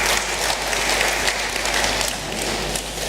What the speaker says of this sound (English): A round of applause to our Chancellor.